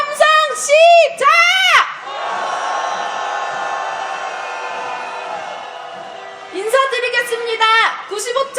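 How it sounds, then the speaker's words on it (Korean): A crowd at a candlelight rally calling for President Yoon Suk-yeol's impeachment erupts in a long, loud roar of shouting and cheering. Amplified speech frames the outburst before and after. "함성 시작!"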